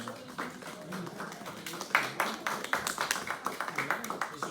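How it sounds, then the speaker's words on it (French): Scattered audience clapping at a French talk on the image, with individual claps rising into a loose, moderate round of applause after a spoken thanks. "On peut l'applaudir."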